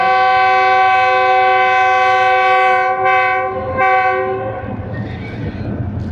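Passenger train on Pakistan's ML2 route sounding a long, loud multi-tone horn, briefly broken, with the rumble of the train running on the rails beneath and growing as the horn fades.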